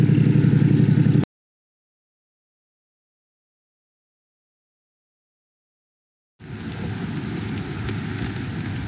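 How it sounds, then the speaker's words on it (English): Rain falls steadily outdoors at a horse arena, a dense hiss heard before and after a long stretch of complete silence. "Well, believe it or not, it's actually raining."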